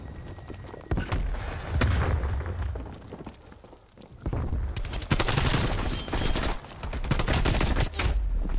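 Gunfire in the video game Call of Duty Cold War, Hardpoint mode: rapid automatic bursts that start, cut out and resume, loud and close, with no talk over the shooting.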